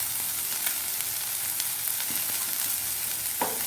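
Asafoetida and spices sizzle and crackle steadily in hot oil for masala dosa, a close, even frying hiss with a few brief pops and stirring clinks.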